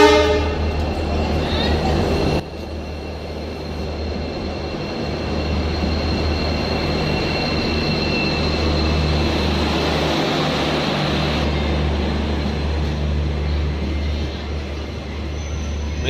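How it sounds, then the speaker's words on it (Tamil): The Tambaram–Sengottai express train arrives at a station in India. A sharp horn blast opens over a heavy, continuous rumble of rolling wagons that stays loud and steady, and a faint voice is briefly heard. "தாம்பரம் செங்கோட்டை அதிவிரை வண்டி வந்துருச்சு."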